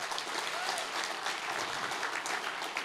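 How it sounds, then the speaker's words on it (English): An audience at a church conference claps together, a steady, moderately distant round of applause that holds evenly from start to finish with no voices over it. "You got your applause"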